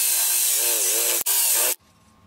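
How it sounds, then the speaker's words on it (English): Power drill boring a half-inch hole through the center of a plastic bottle cap, a loud continuous whine that breaks off briefly, resumes, then stops, leaving quiet room noise. "we want to take both of the caps and we want to drill 1/2 inch hole in the center"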